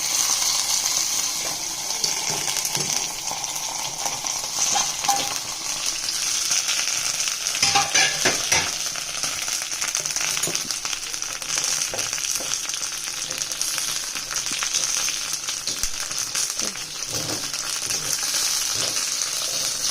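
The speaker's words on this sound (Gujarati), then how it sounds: "તો જો હવે આપણે આને એકવાર હલાવી લઈએ એટલે ત્યાં બળી જાય" Oil frying steadily while gunda sambharo is stirred in the pan, a constant hissing sizzle with faint scraping and watery crackle throughout, no talking.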